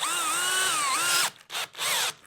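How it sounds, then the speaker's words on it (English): A large drill bit bores into concrete board behind a TV while a new outlet is added, giving a loud, continuous high whine with shifting pitch, then stopping and restarting in short bursts. "So we're going to use this huge drill bit."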